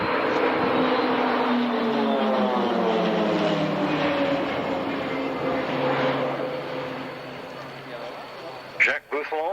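A PC-7 aircraft loops tightly in front of the crowd at an airshow, its propeller engine droning steadily with a Doppler-shifting whine as it comes round, then fading, while a commentator talks over it.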